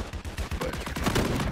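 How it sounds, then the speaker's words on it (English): Rapid shotgun blasts in a Call of Duty Search and Destroy match, a dense run of loud, booming game gunfire shots in quick succession with no pause. "He's going crazy with that shotgun."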